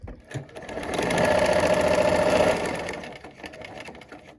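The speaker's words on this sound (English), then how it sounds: "we'll just go ahead and start stitching" A sewing machine runs steadily for a few seconds as it stitches a quilt block, its motor whirring up to a rapid, even hum and then slowing to a stop.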